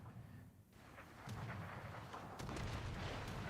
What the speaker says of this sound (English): It's a lot of missiles coming in